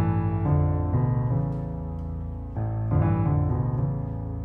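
Sustained piano chords ring out one after another, the harmony shifting a few times at an unhurried pace.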